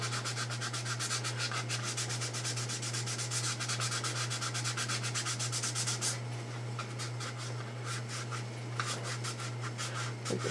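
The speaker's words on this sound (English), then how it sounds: "I think it's going to be time for new sandpaper pieces." Sandpaper rubs back and forth over filler on a plastic model Starfighter kit in close, steady rhythmic strokes with a faint constant hum beneath, the scraping continuing for about ten seconds.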